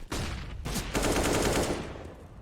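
AK-47 rifle fire from a Counter-Strike esports match comes as a rapid burst of close, loud gunshots running together, with no talk over it.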